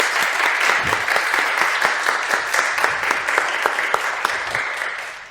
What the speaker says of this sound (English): Now will be our time for applause first and foremost.